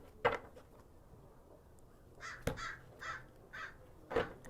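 A crow caws outdoors, about five harsh calls in a quick row at moderate distance, with a couple of sharper knocks nearby.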